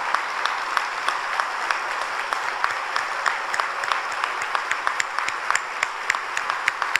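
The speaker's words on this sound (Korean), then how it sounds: "이제 모두 자리에서 일어나실 때 따뜻한 박수로 환영해 주시기 바랍니다." Congregation at a Friday all-night church worship service applauding in welcome of visiting foreign believers and missionaries, a steady wash of many hands clapping throughout, with sharper individual claps standing out near and far.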